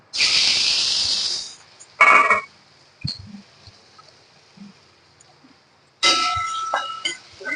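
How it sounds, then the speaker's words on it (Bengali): Prawns frying in mustard oil in a wok on a gas stove: a loud, hissing sizzle that fades, then a few short clinks and sputters, and a fresh burst of spitting sizzle near the end. "মাছগুলো আমি এবার ভেজে নেব"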